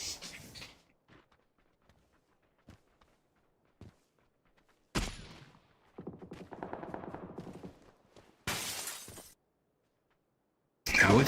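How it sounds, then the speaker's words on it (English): Gunfire in a competitive console PUBG match: sharp, loud bursts of shots at irregular intervals, separated by near-silence and faint ticks, with a longer rattling volley in the middle. "Insane shots here from Andy Cave"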